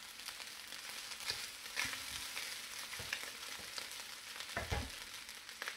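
Veggie fried rice sizzles steadily in a pan while being stirred and declumped, with a continuous hiss and occasional scraping and tapping of the utensil, quiet and close with no talking.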